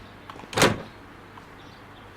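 A back door opens in the video game Sherlock Holmes Crimes & Punishments: a single short scraping swing, fairly close, over a quiet ambient hum.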